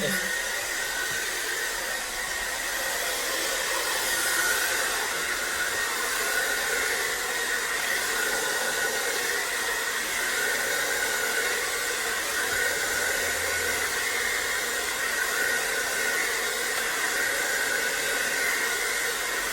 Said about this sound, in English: and then the blow dryer